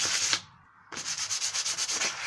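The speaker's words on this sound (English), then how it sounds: "give it a light sand just to clean up the dirt on it" Sandpaper rubbed by hand over a brass ring on wooden garden furniture to clean off dirt, giving close, steady rhythmic scratchy strokes, a short pause, then a quicker run of even back-and-forth rasps.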